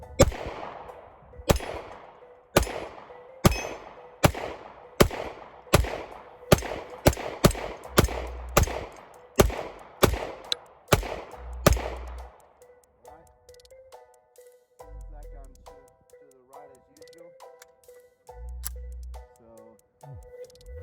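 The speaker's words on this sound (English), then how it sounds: "I'll take my time, take some more shots." A MAPP MS9 pistol fires about a dozen loud, sharp shots at a silhouette target in a fast, uneven string, followed by quieter handling clicks and metallic pings.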